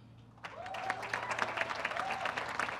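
Audience at a university architecture, art and historic preservation commencement claps steadily for about two and a half seconds after a brief quiet start, dense and sustained, with no talk over it.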